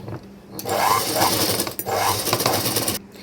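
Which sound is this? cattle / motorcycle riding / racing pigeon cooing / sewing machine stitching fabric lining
sewing machine stitching fabric lining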